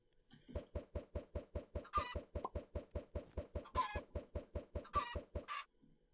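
Rapid, evenly spaced clucking from video game chickens fills the clip, with a few higher squawks rising over the steady rhythm, loud and close.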